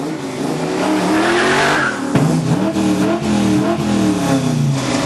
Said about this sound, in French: Le son d'un moteur de Camaro peut se composer comme celui d'un orchestre.